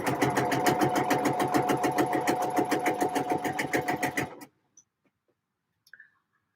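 A domestic sewing machine stitches fabric in a rapid, steady mechanical rhythm at close range for about four seconds, then stops abruptly, leaving near silence with a faint click.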